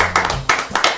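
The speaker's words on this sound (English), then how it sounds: "applause for our winner." Audience clapping for a game winner at a live show with a buffet, heard as a few short, close bursts of hand claps rather than sustained applause.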